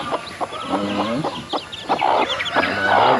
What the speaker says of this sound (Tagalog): Ayan na ba yung sisiw?